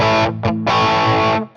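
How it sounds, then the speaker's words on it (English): Electric guitar played through a Minotaur overdrive pedal by itself, loud and crunchy with a mildly pushed tone: a strummed chord, a short stab, then a longer sustained chord that rings out and fades. "The Minotaur by itself sounds like this."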